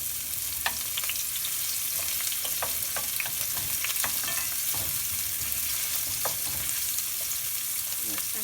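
Chicken pasta ingredients caramelize in oil in a pan with a steady crackling sizzle, while a utensil scrapes and clicks against the pan in irregular stirring strokes, with no voices.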